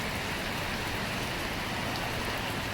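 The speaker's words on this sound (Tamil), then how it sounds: "அதுக்குள்ளே மழை வந்துருச்சு." Steady rain falls outdoors in a dense, even hiss of drops that never lets up, with no voices over it.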